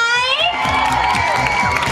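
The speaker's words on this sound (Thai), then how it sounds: "ต้องกรี๊ดให้ดังกว่านี้ ขอเสียงทีนี้แฟนคลับฟิล์มรัฐภูมิครับ" A fan club crowd screams and cheers for Thai actor Film Rattaphum at a live fan event, a dense, loud, continuous wall of high-pitched shrieking voices.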